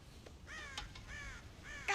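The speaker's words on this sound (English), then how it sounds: "God damn crows!" Crows caw repeatedly in Red Dead Redemption, three or four harsh calls in quick succession, faint and somewhat distant against a quiet background.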